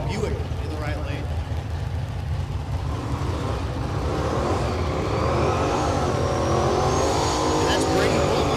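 Buick drag racing car launches down the strip at Texas Motorplex, its engine rising from a low rumble into a loud climbing wail in the later seconds, while an announcer talks over it.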